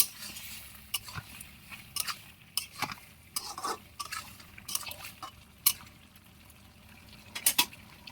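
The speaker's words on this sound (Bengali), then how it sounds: "এখন আমি সেই কষানো সেই মাছগুলো ঢেলে দিয়ে দিলাম। দিয়ে আমি সুন্দরভাবে নেড়ে চেড়ে নিব।" A spoon scrapes and knocks inside a pot as stinging catfish curry with bottle gourd is stirred, giving soft irregular clinks and wet sloshing at close range.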